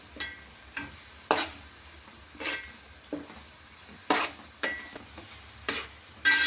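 Homemade hair growth oil boiling in a pan on a stove, with soft bubbling under a string of sharp, regular ticking clicks and crackles roughly every half second, close and alone.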